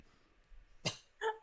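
Two short, sharp coughs, fairly close, spaced about a third of a second apart against a near-silent background.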